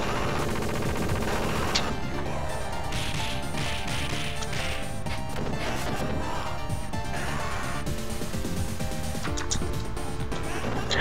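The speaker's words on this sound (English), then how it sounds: "he's got a cartoon style machine gun" Rapid cartoon-style machine gun fire in the Streets of Rage 2 beat-'em-up, dense bursts of sharp retro shots and impacts layered over continuous loud game music for the whole stretch.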